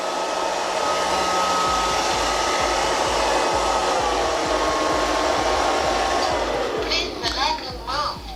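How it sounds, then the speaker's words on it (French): A LIECTROUX B3000 robot vacuum cleaner runs with a loud, steady whirring suction motor throughout, while someone talks over it. "dès qu'il détecte quelque chose, il hausse en fait son système d'aspiration"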